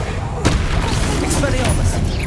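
A Confringo fire spell blasts in Hogwarts Legacy combat, a sharp boom near half a second followed by further crackling impacts and rumbling battle noise throughout, loud and close.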